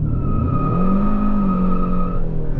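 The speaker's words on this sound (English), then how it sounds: "We spun the wheels a bit, trying to get off the line" A 2023 Hyundai Sonata N-Line launches hard with traction control off in Sport Plus, its engine roaring loud and close while the front tyres spin and squeal through a steady, rising tone for a couple of seconds.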